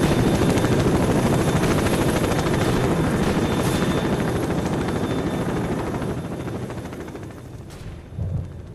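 A helicopter in S.T.A.L.K.E.R.: Call of Pripyat thunders close and loud with a rapid rotor chop, mixed with bursts of gunfire, then fades as it pulls away.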